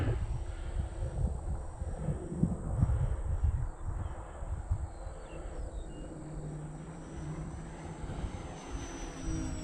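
A Durafly Bonanza V-tail RC model plane's propeller buzzes faintly in the distance under steady wind rumble, its whine drifting in and out.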